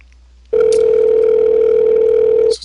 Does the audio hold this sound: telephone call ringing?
yes